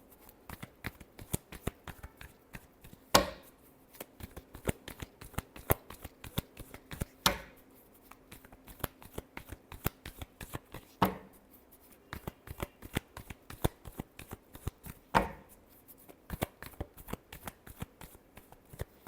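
Tarot cards being shuffled by hand: a steady run of quick, crisp riffling flutters with several louder snapping bursts at regular intervals, close and clear, with no talking.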